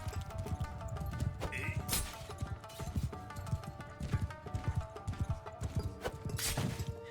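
Horse hooves clop in a steady, busy rhythm in the Shokuho video game, close and fairly loud over a layered backdrop of battle noise and scattered tonal sounds, with a brief higher whinny-like burst partway through.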